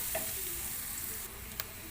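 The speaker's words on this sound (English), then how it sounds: "So just saute this until it gets translucent or change color." Onion sautéing in a pan for fish sisig, a dense steady hiss of frying with a few faint stirring scrapes, close and unbroken, no voices.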